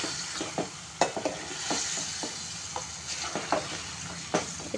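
Restaurant-style mutton curry fries over high heat as it is stirred until its water cooks off, producing a dense, continuous sizzle broken by frequent spoon scrapes and knocks against the pan.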